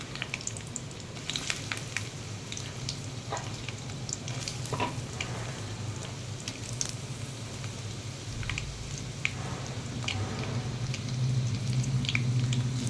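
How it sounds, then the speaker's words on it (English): Garlic pods and chopped onion frying in hot oil, a soft continuous sizzle and crackle with light stirring and dripping, swelling a little louder toward the end. "Once it's hot, add the garlic pods, chopped onion,"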